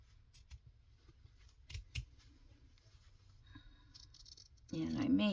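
Scissors snipping through thick upholstery-weight fabric for a botanical junk journal, small close crisp cuts spread across the clip before a louder rustle of handling at the end.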